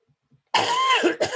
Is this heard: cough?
yes